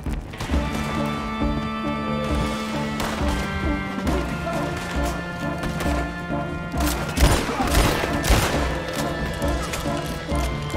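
Repeated gunshots and heavy impacts ring out during a Red Dead Redemption 2 shootout. The sharp cracks are scattered irregularly and sound loud and close over a steady, tonal musical backdrop.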